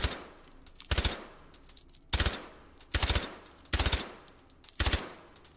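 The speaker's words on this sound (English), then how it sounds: "My favorite semi-auto pistol in full auto" A Glock 22 pistol fires full auto in the H3VR virtual reality game, with five short, loud, rapid bursts of gunfire separated by brief pauses.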